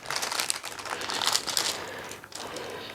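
A fairly rigid candle mold is folded down to free it, giving a steady close crinkling and crackling of flexing material for a few seconds with no talk.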